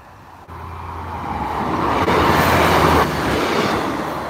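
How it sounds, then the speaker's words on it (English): A Great Western Railway Class 150 diesel passenger train approaches and passes a level crossing nearby, its rushing rumble swelling to a loud peak then easing slightly, with a brief clunk near the start. "150-120 for Great Western Railway."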